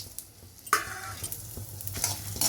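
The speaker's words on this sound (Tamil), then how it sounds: "இது எல்லாத்தையும் இப்போ ரோஸ்ட் பண்ணிடலாம், ஃப்ரை பண்ணணும்." Urad dal, dried red chillies and fenugreek roast in a little oil for a brinjal podi curry, with a soft crackle and occasional sharp spatula scrapes and clinks on the pan, close but fairly quiet.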